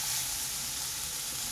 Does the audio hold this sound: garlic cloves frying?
yes